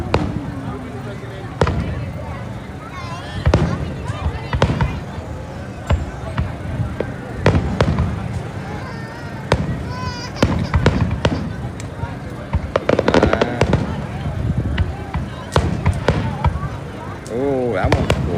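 Fourth of July fireworks at North Cape May burst repeatedly in loud, irregular booms and crackles over a long stretch, with people chatting in the crowd between explosions.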